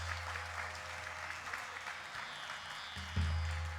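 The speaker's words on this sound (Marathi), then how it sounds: "टाळ्या." An audience at a devotional music event in Pandharpur claps for tabla and pakhawaj players, a moderate steady patter of applause that swells briefly near the end.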